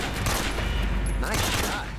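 A gunshot fires in Metal Gear Solid 3, a loud burst over dense in-game sound with a voice speaking alongside it.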